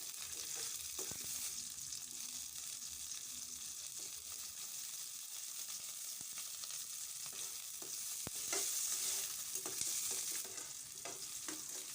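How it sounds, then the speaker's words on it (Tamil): Shallots and slit green chillies frying in hot oil in a pan for a pumpkin tamarind curry, a steady close sizzle with occasional stirring scrapes and taps, no voices. "ஆயில் நல்லா ஹீட் ஆனதும் சின்ன வெங்காயம் போட்டு நல்லா வதக்கிட்டு"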